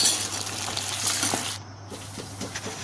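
Spices frying in sesame oil for lemon pickle, a steady close sizzle with soft scraping stirring strokes and a brief muffled dip partway through, no voices.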